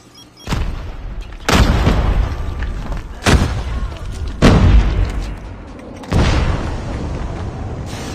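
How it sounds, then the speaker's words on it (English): Grenade blasts in a multiplayer shooter video game: several loud, sharp booms, roughly five, spaced about a second or two apart, each followed by a rumbling tail, close and dominant, no talking. "Grenade!"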